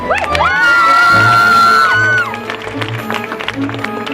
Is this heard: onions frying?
no